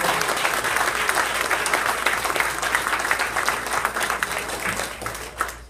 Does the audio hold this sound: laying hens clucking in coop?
no